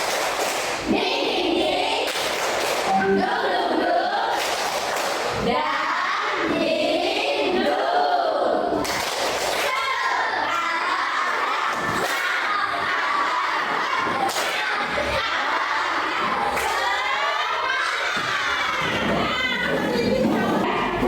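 Schoolchildren in a coding and artificial intelligence class perform a clapping chant, with sharp bursts of group claps and thumps at irregular intervals between loud shouted chanting and cheering, close and lively throughout.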